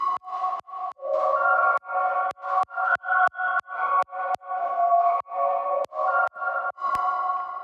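Washed-out, fully wet reverb layer in a production, bass and treble filtered away, pulsing in choppy, gated bursts with short gaps and sharp clicks between them, steady and moderately loud with no voices.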